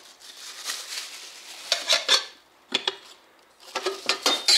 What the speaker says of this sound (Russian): Кастрюлька, сковородка, грибочков пожарить